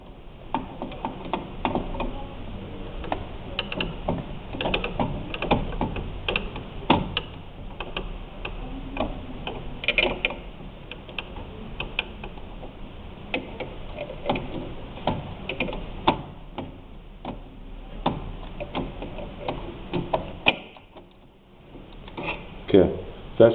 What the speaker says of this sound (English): we're going to remove that one inside corner screw